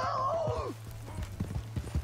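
A horse in the video game Red Dead Redemption 2 whinnies briefly, then its hooves clop in a quick galloping rhythm, close and fairly loud.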